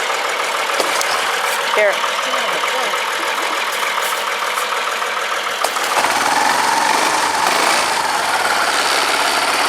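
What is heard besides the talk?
air-cooled engine idling after pull start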